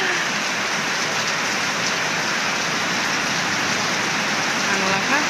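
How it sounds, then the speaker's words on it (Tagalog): Heavy rain pours steadily onto surfaces at night, a dense, even hiss with pattering drops that continues without pause, close and fairly loud throughout. "Ang lakas ng ulan at yung aming planggana na puno yung tubig."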